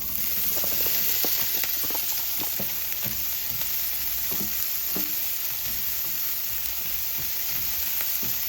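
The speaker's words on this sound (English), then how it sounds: "we're gonna go ahead and toast these up a little bit before we throw in the onions" Orzo toasting in olive oil in a skillet for a Mediterranean chicken orzo dish gives a steady, close sizzle, broken by soft scraping stirs and light crackles, with no one talking.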